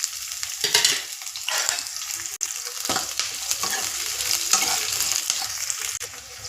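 Onions and green chillies fry in a pan with garlic, ginger, curry leaves and mint for egg sambar. The sizzle is loud and close, broken by bursts of stirring and a sharp clink of the spoon.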